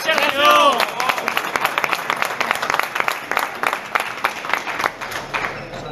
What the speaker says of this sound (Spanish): un fuerte aplauso, Sergio Fernández